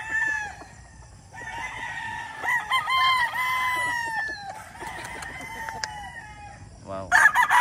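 Roosters crow repeatedly in the rain on a farm in Maragondon, Cavite, several long cock-a-doodle-doo calls overlapping at close range, with soft clucking and a steady background patter.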